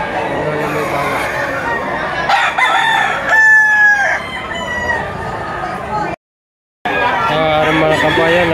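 A rooster crows loudly and repeatedly among more fowl clucking and crowing at the Lipa City auction market, with crowd chatter underneath and a brief drop to silence near the end.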